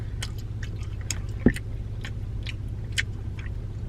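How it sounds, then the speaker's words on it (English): Gum being chewed close by, with soft repeated wet smacks and clicks over a low steady hum, one sharper snap standing out. "Somebody need to take your gum away"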